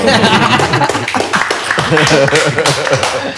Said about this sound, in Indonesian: Tepuk tangan untuk Mas Boncel.